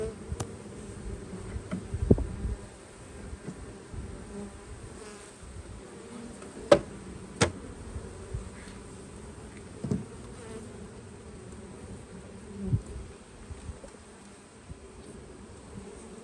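Honeybees from a six-week-old package colony buzz at an open hive, a faint, steady hum with a few soft knocks and clicks from frames being handled nearby.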